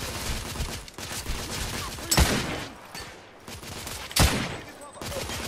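Gunfire rings out in the video game The Order 1886, with rapid bursts of shots and two heavy, sharp blasts standing out, loud and close, while a player talks over the shooting.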